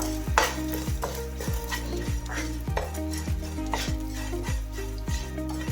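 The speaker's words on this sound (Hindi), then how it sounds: "बहुत ही कम घी में हम गोंद को अच्छे से पका लेंगे" Edible gum (gond) roasting in a little ghee in a pan, a soft sizzle under repeated rhythmic scrapes and clinks of a spoon against the metal pan, with a low steady hum beneath.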